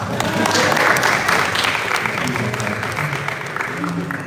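A crowd applauds at a film festival panel talk, with loud, steady, broadband clapping that swells early and then tapers gradually over a few seconds.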